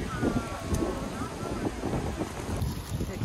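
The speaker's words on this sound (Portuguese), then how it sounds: "tá mesmo ventando bastante." Strong wind blows outdoors, a steady loud rush buffeting the microphone throughout while a person talks over it.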